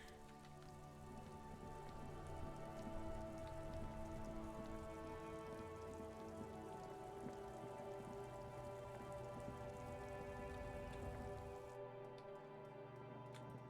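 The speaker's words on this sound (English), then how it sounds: "This rain will not let up anytime soon." Steady rain falls in the video game Disco Elysium, a dense, even hiss of drops on surfaces that holds for the whole stretch, with a soft tonal drone beneath. The texture thins briefly near the end.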